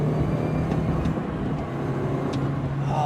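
A supercharged R53 MINI Cooper S with a 17% supercharger pulley and intercooler revs, giving a steady, loud engine drone with a sustained tone that holds throughout.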